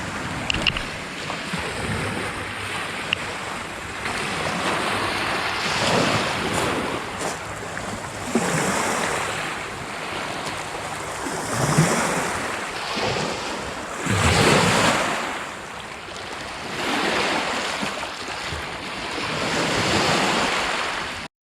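Steady roar of waves washing onto a shore, swelling and receding in slow surges, with wind buffeting the microphone throughout.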